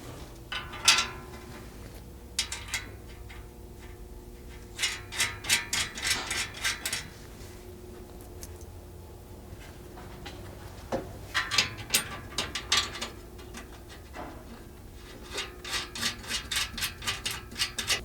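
Button head 1/4-20 bolts with flange lock nuts are tightened on a cargo basket in a JL Wrangler, with quiet bursts of rapid ratcheting clicks separated by pauses.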